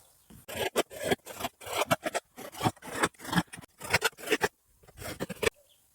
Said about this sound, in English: I need to cut slots in it for aeration